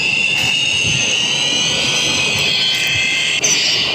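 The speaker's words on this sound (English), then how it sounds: "This is the only turbo this guy has." A Dodge Ram truck's Cummins turbocharger lets out a steady, loud high-pitched whine over a constant rushing roar, held throughout with only a brief dip near the end.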